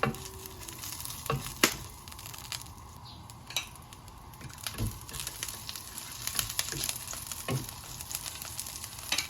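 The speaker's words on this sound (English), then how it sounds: "Sauté garlic until golden brown." Garlic sautés in hot oil in a pan, a continuous close hiss and crackle broken by occasional sharp clicks and taps from stirring.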